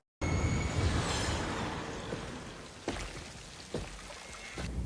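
Steady rain pouring over Gotham City in The Batman, a dense hiss that starts abruptly and fades slightly, with a few sharper drips or splashes later.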